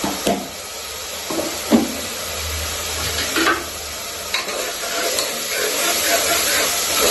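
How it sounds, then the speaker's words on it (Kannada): Chopped tomatoes sizzle steadily in a pan for a Mangalore-style chicken curry, a close, constant frying hiss broken by a few sharp spoon scrapes and stirring knocks. "ಇವಾಗ ಟೊಮ್ಯಾಟೊ ಸಾಫ್ಟ್ ಆಗೋವರೆಗೂ ಇದನ್ನ ಹಿಂಗೆ ಹುರ್ಕೊಳ್ಬೇಕು."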